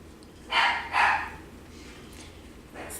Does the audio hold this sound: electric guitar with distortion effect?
no